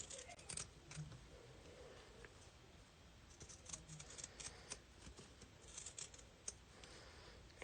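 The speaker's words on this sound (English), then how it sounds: "because we're going to have a raw edge, I am using some pinking shears" Pinking shears snip through fabric for floral picks, a quiet run of repeated crisp cuts with a faint rustle between them, close by and with no talking.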